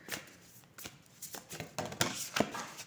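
Oracle cards are shuffled and drawn by hand in a quick, close series of crisp riffling and flicking bursts, uneven in rhythm and fairly soft.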